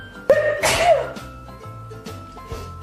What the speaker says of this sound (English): Sorry, had to sneeze then.